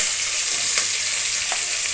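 Onions and four or five green chillies sautéing in a pan for chicken biryani, a loud, continuous close-up sizzle with a couple of faint stirring scrapes.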